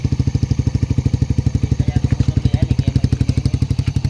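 A GD110 motorcycle engine idles with a newly fitted R150 Fortress aftermarket muffler, giving a steady, close, loud burbling exhaust pulse with an even rapid beat throughout.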